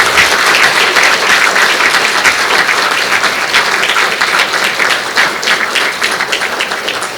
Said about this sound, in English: Ladies and gentlemen, a big round of applause for Professor Ilan Pappé.